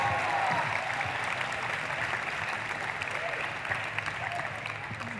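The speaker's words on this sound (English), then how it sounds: "Give them a big round of applause." An audience at a national final claps steadily in a big round of applause, the sound dense and even with a slight swell at the start.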